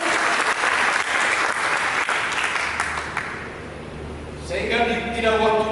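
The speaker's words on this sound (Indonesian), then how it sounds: "Berikan tepuk tangan bagi dia." A church congregation bursts into loud, sustained applause during a Sunday sermon, dense clapping filling the room before tapering slightly, with a voice and a few musical tones emerging near the end.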